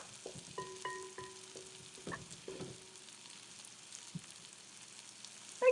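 A batch of okonomiyaki, Japanese savory pancakes, fries quietly in a pan, giving a faint steady sizzle with occasional soft pops and light clinks throughout.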